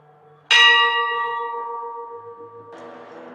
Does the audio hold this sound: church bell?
yes